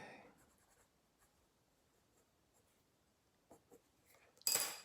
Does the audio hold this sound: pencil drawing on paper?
yes